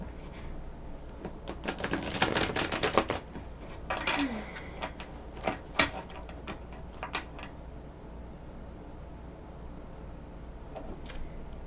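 Quick bursts of crisp riffling and soft clicking as tarot cards are shuffled, busiest early on, then scattered taps and flicks over a quiet background, close by.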